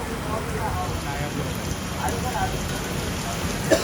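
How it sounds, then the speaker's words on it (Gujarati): Steady rain falls outside in a downpour, a continuous even hiss of drops that holds at moderate loudness throughout, with one brief sharper patter near the end. "વરસાદ છે બહાર."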